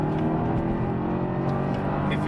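A BMW 645 with a six-speed manual pulls away from a stop, its engine droning steadily and close up for a couple of seconds with no break in the sound.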